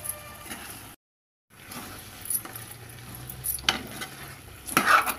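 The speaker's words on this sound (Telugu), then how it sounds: "కొత్తిమీర వేసిన తర్వాత మళ్ళీ ఒకసారి కలపాలి" A spoon stirs mutton curry with fenugreek leaves, tomato and fresh coriander in a pan, making soft scraping strokes over a low sizzle, louder toward the end.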